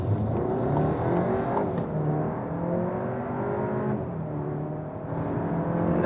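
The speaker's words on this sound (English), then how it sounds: "what happens when I accelerate out here from standstill?" A Volkswagen Arteon Shooting Brake with front-biased all-wheel drive accelerates hard from a standstill, heard from inside the cabin as a loud engine note that climbs steadily through the gears, with no speech.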